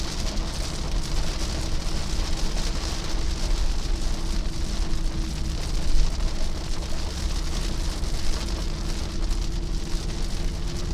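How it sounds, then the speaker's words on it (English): Heavy rain pounds steadily on a moving vehicle during a severe thunderstorm chase in East Tennessee, a dense continuous roar with a low road and engine rumble underneath and no talking. "getting into some heavier rain now"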